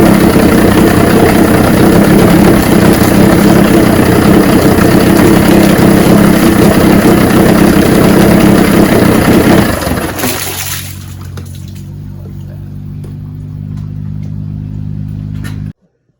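A 1986 85 hp Force outboard on a Bayliner boat runs loud and steady, then cuts back to a quieter idle hum before stopping abruptly.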